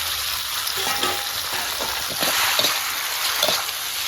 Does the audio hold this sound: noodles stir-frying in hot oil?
yes